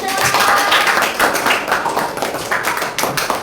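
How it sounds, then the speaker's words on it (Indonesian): Students in a classroom applaud a group after its presentation, with continuous crowded clapping close by, pulsing unevenly for several seconds without letup. "Tepuk tangan buat kelompok 1."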